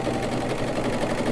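A Bernette B44 sewing machine running steadily as it starts a stitch, a continuous close mechanical whir with a fast, even rhythm and no pauses.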